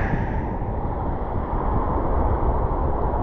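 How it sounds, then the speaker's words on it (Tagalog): Strong coastal wind on a Palawan shore during a fishing trip roars steadily into the microphone as heavy low buffeting, loud and constant, with no break and no voices. "Sobrang lakas ng hangin."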